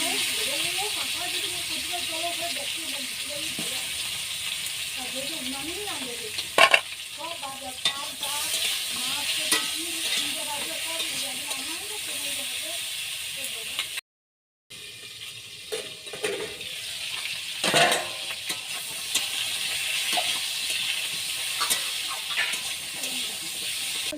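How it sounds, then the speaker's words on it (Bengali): Bitter gourd frying in a pan gives a steady, close sizzle with scraping and stirring from a spatula, broken by a short dropout in the middle. Faint voice-like sounds are present but no clear words can be made out. "এই করলাটা ভাজছি।"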